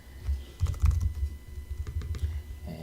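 Quick bursts of keystrokes on a computer keyboard, close and clear, in irregular clusters with short pauses between them.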